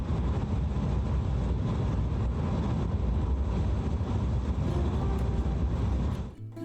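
A Mitsubishi Delica driving with its overdrive disabled by a pulled fuse, its engine running high with a steady, dense rumble and road noise heard from inside throughout, easing off only at the very end.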